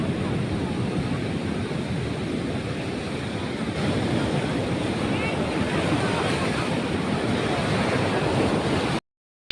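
Sea waves roll onto the shore at Puri beach, a constant deep roar with wind buffeting the microphone, steady and loud for about nine seconds before cutting off.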